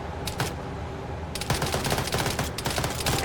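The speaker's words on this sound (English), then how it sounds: "So they're shooting out the wheels." Arma 3 video game gunfire aimed at a vehicle's wheels: rapid bursts of shots crackle close and loud in two clusters, with steady background rumble between them.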